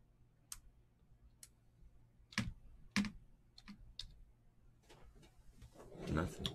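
Scattered keystrokes on a computer keyboard, a few sharp separate clicks, then a busier burst of taps and handling noise near the end, close and fairly quiet.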